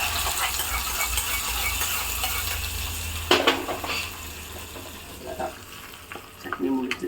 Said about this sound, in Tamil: எண்ணெய் ஊற்றி வச்சுருக்கேன் கொஞ்சமாக கடுகு உளுத்தம்பருப்பு போட்டுக்கலாம் கடுகு பொறிஞ்சு கருவேப்பிலையும் போட்டுட்டேன் இதை எடுத்து சட்னியில் போட்டுக்கலாம்